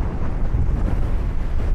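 Strong outdoor wind buffeting the microphone, a loud continuous low rumble with gusty surges throughout, no voices.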